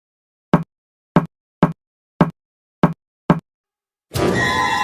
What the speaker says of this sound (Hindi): मुख्य दरवाजे पर अचानक तेज दस्तक हुई।